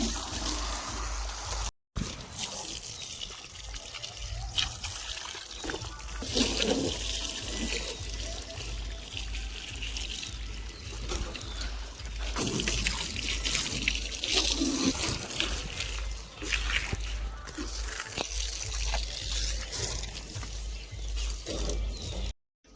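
Water rinsing a Mahindra Bolero during a car wash, heard as a continuous rushing spray with rattling mechanical clatter. It runs steadily for over twenty seconds, broken only by a brief drop-out near the start.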